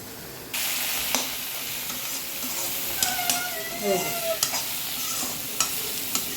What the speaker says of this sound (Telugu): ఇవి కొంచెం మళ్ళీ మూట పెట్టేసుకొని ఒక రెండు మూడు నిమిషాలు మగ్గనివ్వాలి